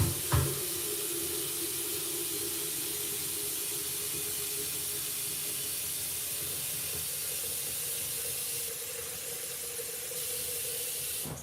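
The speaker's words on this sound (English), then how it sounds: "we're gonna start off with getting the water on the kettle" Tap water runs steadily into a kettle in a home kitchen, a continuous close hissing splash that barely changes for the whole stretch after a brief knock at the start.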